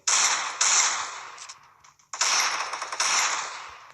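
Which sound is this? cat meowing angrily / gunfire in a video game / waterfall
gunfire in a video game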